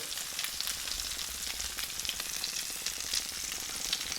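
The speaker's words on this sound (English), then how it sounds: "And in it goes to grill." Egg-soaked French toast sizzling on a grill, a steady crackling fry with soft popping throughout, fairly quiet and with no talking.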